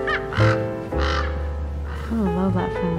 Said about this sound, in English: I love hearing the birds chirp in the morning.